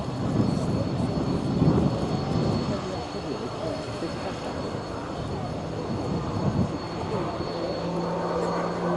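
RAF Tucano turboprop display aircraft flying aerobatics at an air day, its propeller engine a loud, continuous drone that swells and fades slightly as it pulls up into a loop, with commentary over it.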